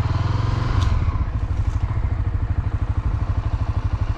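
A Honda Twister 250 motorcycle engine chugs steadily up close as it rides along a muddy trail in Serra da Canastra, with a rhythmic thumping exhaust and occasional clatter.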